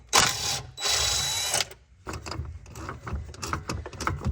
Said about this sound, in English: Quarter-inch ratchet for the win.